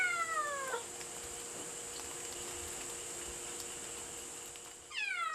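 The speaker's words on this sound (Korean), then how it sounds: "입구 쪽에서 새끼 고양이의 울음소리가 들렸다." A kitten on a Korean island with many cats meows twice, a descending cry at the start and another near the end, faint over a steady hum of insects.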